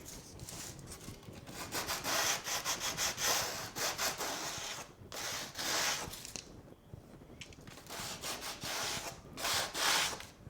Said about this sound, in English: I'm going to sand the edge that I'm going to glue